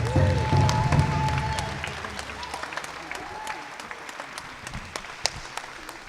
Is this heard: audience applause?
yes